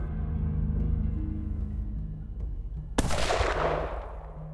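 A single sharp gunshot during a hunt cracks out loud and sudden at mid-clip, its echo decaying over a quiet outdoor background.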